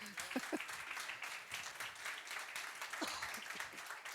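A church congregation at a Sunday Tamil-Hindi service claps together, a dense, steady wash of applause from many hands with a few scattered vocal sounds underneath.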